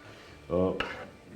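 Crab meat and wild sorrel fry in a hot pan as a spoon stirs them, a brief scrape and sizzle with a sharp clink of utensil against metal, close and short.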